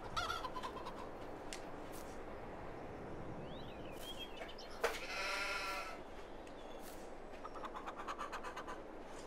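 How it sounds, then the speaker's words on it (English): In Farming Simulator 22, a sheep lets out a clear bleat midway through, set against steady fowl clucking and soft farmyard ambience, with no talking. "I don't mind the sheep getting in there."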